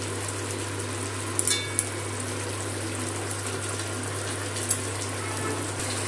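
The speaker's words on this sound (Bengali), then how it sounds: "প্লেটে যে তেল লেগেছিল সামান্য একটু জল দিয়ে ধুয়ে দিয়ে দিলাম" A little water from rinsing an oily plate hisses into a hot pan of spiced masala with fried pointed gourd. It makes a steady, even wash of sizzle and splash that lasts throughout, with a couple of faint clicks and no voices.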